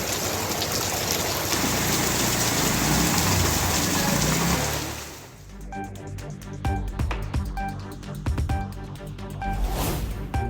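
Heavy rain pours steadily over Chennai's suburbs, a dense loud hiss for about five seconds, then gives way to a sparser mix of other sounds with the rain still faintly present.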